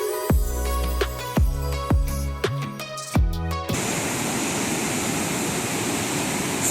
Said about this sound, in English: So this is the actual sound of the waterfall.